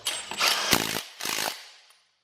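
A Milwaukee stubby 3/8-inch impact wrench hammers at a fastener to break it loose. It fires in two loud, close, buzzing bursts, the first longer than the second, with a short pause between them and then silence.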